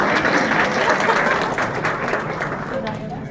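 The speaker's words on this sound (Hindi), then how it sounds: "तो तालियां वालियां बजाते रहना बीच बीच में" Audience clapping fills an office performance hall, a dense, steady wash of many hands close by that holds for the whole stretch and fades only slightly toward the end.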